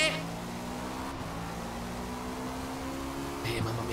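Race car engine in Forza Motorsport during the final laps of an endurance race on a crowded track, a steady droning whine held at high revs with faint passing cars, under a voice talking.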